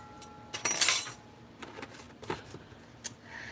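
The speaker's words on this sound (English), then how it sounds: "I'm gonna go ahead and add a teaspoon of onion powder" A teaspoon of onion powder goes into a bowl of keto cracker dough, giving a few light metallic clinks and taps of spoon against the bowl, close and fairly quiet, with short scrapes spread over a few seconds.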